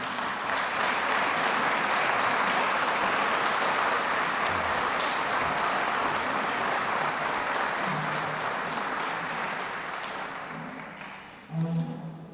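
Guests at a police department awards banquet honoring retired officers give a long, steady wash of applause that gradually thins and fades, with a brief murmur of voices at the end.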